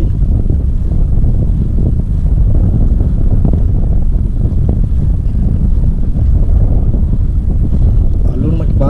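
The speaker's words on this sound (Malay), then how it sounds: "Ada angin ni." Steady wind roars across the microphone while kayak fishing at sea off Malaysia, a continuous broadband rush with low rumble throughout, with faint talk mixed in.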